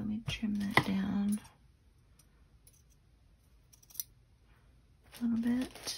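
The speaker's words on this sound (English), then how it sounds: "Let me trim that down" Scissors trim book-page paper for a craft project, giving a few crisp snipping clicks between stretches of quiet, with a voice speaking briefly at the start and end.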